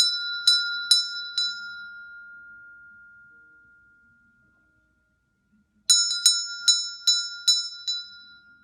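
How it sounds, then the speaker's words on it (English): A root chakra bell rung during a guided meditation: two clusters of bright metallic strikes, each ring sustaining a clear high tone that slowly fades into silence before the second, quicker series of strikes begins. "So let's ring the root chakra bell for you."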